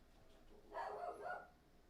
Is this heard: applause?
no